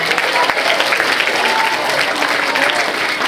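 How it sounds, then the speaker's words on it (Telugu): Audience applause for a student named Manasa at a motivational music-meditation program at a girls' college, dense and sustained clapping from a large crowd filling the room for the whole moment. "మానసుకు ఒకసారి గట్టిగా క్లాప్స్ ఇవ్వండి."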